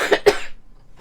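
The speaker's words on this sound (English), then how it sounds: "this cough is just gonna kill me" A woman coughs twice in quick succession, close and sharp, followed by a brief quiet pause.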